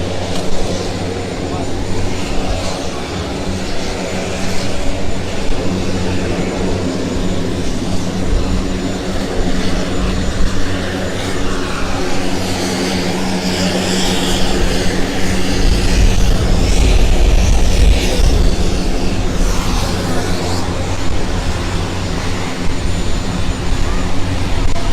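A passenger aircraft arriving in St Vincent and the Grenadines carrying members of the media, a steady, loud engine roar running throughout, swelling slightly toward the end, with talk audible over it.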